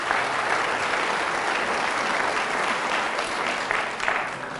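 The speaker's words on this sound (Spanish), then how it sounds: "den un fuerte aplauso" Loud, dense applause from a large church audience at a healing and deliverance talk, steady and continuous throughout with a slight swell near the end, no voices over it.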